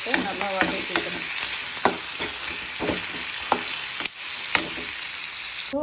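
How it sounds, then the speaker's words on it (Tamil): Tomato and green chillies frying in hot oil for mutton kulambu, a steady sizzle broken by repeated sharp scrapes and clinks of a spoon stirring the pan. "இப்போ வந்து தக்காளி ஒரு 1 தக்காளியும் 2 பச்சை மிளகாவும் போட்டு நல்லா வதக்கிக்கணும்"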